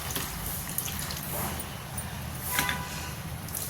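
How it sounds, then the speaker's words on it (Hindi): Hot water pours over a ladle into a jackfruit curry in a home kitchen, making a steady, close splashing gush with no voices. "ये मेरा गर्म वाला पानी, इसे कलछुल के ऊपर डालेंगे जिससे इसका भी मसाला छूट जाए।"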